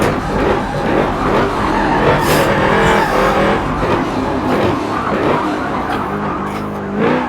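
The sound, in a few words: Porsche race car racing on the Le Mans circuit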